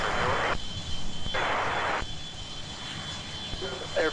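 Air France airliner jet engines roaring at Minneapolis–St. Paul airport, a loud steady broadband rush that swells and eases in bursts, with a radio voice briefly heard over it.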